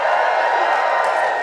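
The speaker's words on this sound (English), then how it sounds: "Just give us a cheer if you would call yourself a global feminist" Festival audience cheering at Wilderness Festival, a steady broad wash of crowd noise and whoops, loud and sustained over the short span, with no single voice standing out.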